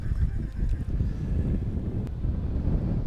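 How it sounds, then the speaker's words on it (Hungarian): Loud storm wind buffets the microphone at a carp fishing lake with a constant low roar and rumble, close and unbroken for a few seconds, no voices present. "halljátok talán, eszméletlen erős szél fúj."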